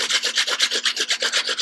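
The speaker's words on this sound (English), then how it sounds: "I grate as much as I can." Potatoes being grated by hand for potato pancakes, a steady rhythmic rasping of about a dozen close, loud strokes with no talking.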